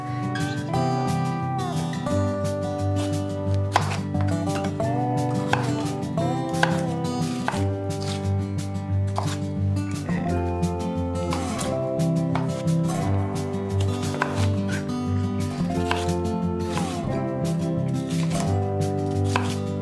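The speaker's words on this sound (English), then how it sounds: "I'm cutting up some pepper, onion," A kitchen knife chopping bell pepper and onion on a board, a steady run of rapid cuts heard faintly under dense background music throughout.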